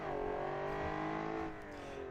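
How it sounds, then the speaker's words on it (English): Sport luxury car engine in the BeamNG driving game, held at a steady loud drone with a strong harmonic whine, easing slightly near the end, glitchy in character, with no voices over it. "The engine sounds are glitching out."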